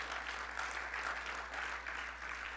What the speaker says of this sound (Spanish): Dale el aplauso de alabanza al Señor.